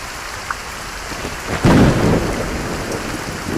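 Thunder rumbles and cracks over steady heavy rain in a storm, a loud burst swelling near the middle then settling back into the continuous downpour, with no voices.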